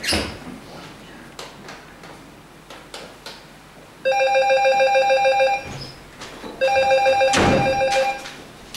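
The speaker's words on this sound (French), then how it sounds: "moi j'appelle Charlotte" Two bursts of electronic telephone ringing, each a steady multi-tone trill lasting about a second and a half, with a pause between them and faint room noise and small knocks around them.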